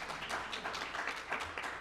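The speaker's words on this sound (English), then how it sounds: "I never get applause like that." Applause fills a school board meeting room, a steady, dense patter of many hands clapping at moderate volume with no voices over it.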